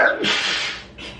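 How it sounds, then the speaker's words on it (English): A single forceful sneeze with a short breathy intake before it, close and loud. "I think I'm gonna sneeze again."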